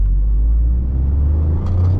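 Toyota GR Yaris, a light four-wheel-drive hatchback with short gearing, accelerating hard on an open road; a loud, steady engine drone and road rumble fill the whole stretch without any talk.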